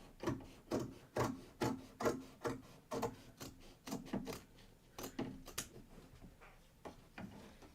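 Scissors trimming away excess fabric from an appliqué quilt block make a close, soft series of rhythmic snips and rubbing cuts, about two per second, with no talking.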